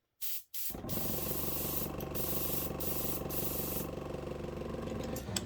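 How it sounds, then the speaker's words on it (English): An airbrush sprays paint onto a model Standard 4 locomotive smokebox, a brief burst then a steady close hiss of air and paint with a compressor running beneath. "Got the compressor all powered up."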